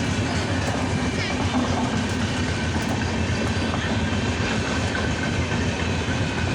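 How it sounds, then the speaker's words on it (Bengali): The Howrah–Raxaul Express, hauled by WAP-4 and WAP-7 electric locomotives, rumbles along the rails while slowing at a yellow signal, a dense continuous roar with faint rhythmic clatter, heard from inside or very near. "ট্রেনটা স্লো হয়ে গেল"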